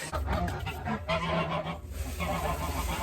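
Geese on a homestead give loud, repeated honks in quick succession from close by, with no talking.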